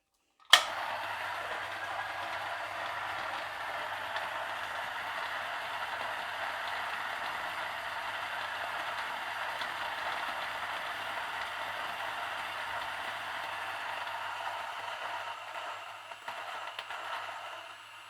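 An electric coffee grinder grinds espresso beans in one long, even, whirring burst with a steady low hum underneath, starting abruptly and tapering off near the end.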